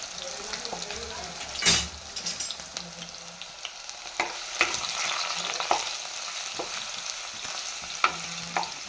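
Green chillies and garlic cloves frying in a pan give a steady sizzle with scattered clicks and knocks of stirring throughout, and a voice speaks faintly at times.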